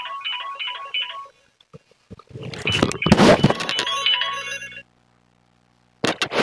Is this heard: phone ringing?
yes